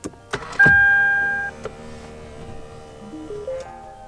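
An Acura TL Type-S car being started, with clicks and a brief sustained chime, then quiet cabin hum and a short rising run of electronic tones near the end.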